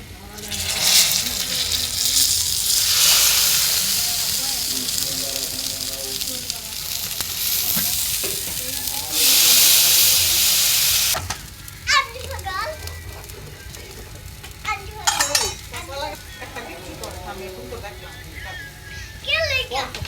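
Spices sizzle and crackle in hot oil while tempering a puti fish sour curry, a steady frying hiss with stirring, as children's voices and talking carry on nearby.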